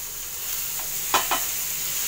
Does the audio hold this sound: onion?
yes